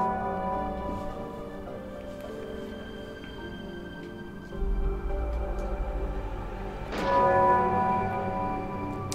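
Hanging bells in a Tomb Raider custom level are shot, producing ringing metallic tones with long sustained overtones over low ambient game drone, and a heavier clang near the end.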